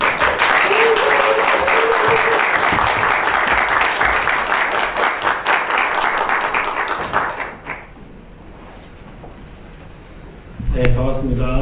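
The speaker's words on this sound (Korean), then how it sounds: "나오실 때 박수로 환영해 주십시오." An academic forum audience at a Reformed theology institute applauds to welcome a presenting pastor; dense clapping runs for about seven seconds with voices mixed in, then fades to a quiet room before a brief burst of sound near the end.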